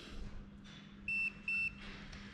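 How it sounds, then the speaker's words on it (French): Two short, high-pitched electronic beeps from a remote control sound in quick succession, evenly spaced against a quiet room hum. "Là, vous avez deux bips."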